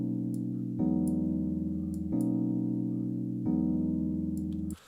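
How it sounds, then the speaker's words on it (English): Chord loop played on a Rode instrument, four sustained synth-like chords changing at steady intervals, clean and even with faint ticking accents, alone without voices. "I'm using a Rode instrument here to make the chords, and sounds like this."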